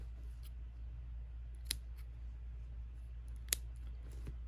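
Scissors snipping a tied thread strand on a summer crop top, two or three crisp, quiet snips spread apart over a steady low hum, no talking.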